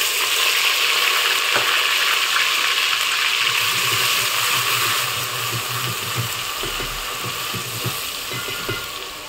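Onion paste frying in a pan with whole spices for aloo kofta curry, giving a steady loud sizzle and crackle with faint stirring scrapes, close and continuous without talk.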